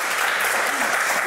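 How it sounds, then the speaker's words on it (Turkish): A studio audience on a Turkish TV quiz show applauds, a dense, steady round of clapping that fills the whole moment at close range. "Bir moral alkışı."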